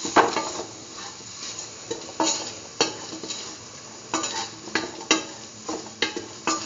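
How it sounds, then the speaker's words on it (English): Curried green tomato coconut dip ingredients stirred in a pan over a flame: a spoon scrapes and clinks against the pan in repeated strokes under a soft, steady sizzle, close by with no talking. "Thoroughly mix all the ingredients together."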